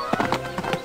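Horse hooves clip-clopping in the Barbie Riding Club video game, a quick run of several soft, close hoof beats in an uneven rhythm, standing alone.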